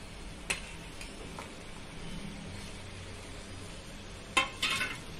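Capsicum sautés with tomatoes in a pan, giving a steady low sizzle punctuated by a few sharp spoon clinks and scrapes, the loudest near the end.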